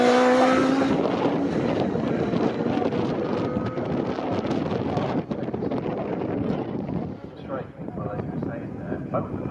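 Formula Libre race cars with 1.6 litre engines roar past at speed on a circuit straight at Snetterton. Loud, continuous engine noise fades slightly as they pass, with wind buffeting on the microphone.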